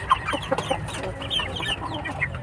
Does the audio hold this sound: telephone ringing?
no